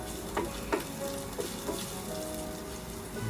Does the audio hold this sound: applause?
no